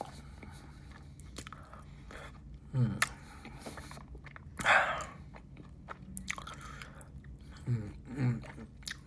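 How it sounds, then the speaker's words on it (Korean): Close crunching and chewing of vitamins, a few distinct bites and crunches spaced over several seconds with quiet mouth sounds in between. "비타민 먹어요."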